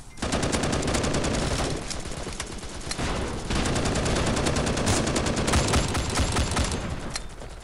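Gunfire in the video game Bullet Force: rapid, continuous automatic bursts, loud and close, with a brief pause before the shooting resumes and runs on almost to the end.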